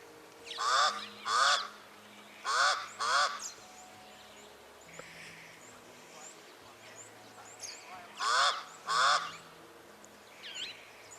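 A pied crow perched on a roof gives harsh, raspy caws in paired bursts, three pairs spaced across the stretch, fairly close and loud, with faint background noise between calls.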